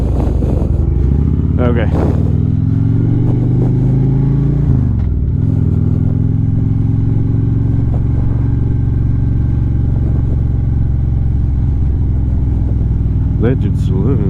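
A motorcycle engine runs loud and close on a road trip to Arkansas, with a throttle blip that rises and then settles back into a steady rumble, with a brief voice over it.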